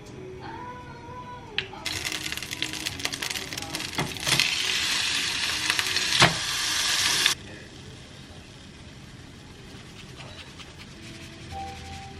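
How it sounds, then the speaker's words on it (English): Meat cooking in a pan for stuffed peppers in a home kitchen, a bright hissing sizzle that builds for several seconds and then cuts off, leaving a quieter background with occasional clinks. "So I'm cooking the meat"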